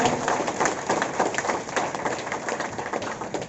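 Loud, steady applause from a seminar audience in Bagodar, with dense clapping filling the room as guests are welcomed, a few voices faintly mixed in.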